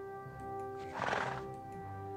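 Horse neighing in the video game Rival Stars, a single loud whinny rising in the middle of the clip over a steady tonal music backdrop, with faint hoof clops around it.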